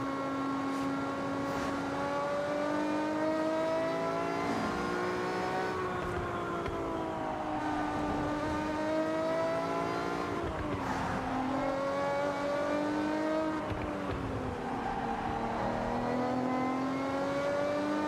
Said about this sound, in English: I definitely need to put an exhaust on this car. Sounds nice.